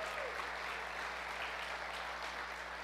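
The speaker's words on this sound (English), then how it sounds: "Let's give a round of applause." A church congregation applauds steadily for about three seconds, an even wash of clapping from many hands filling the room at moderate distance.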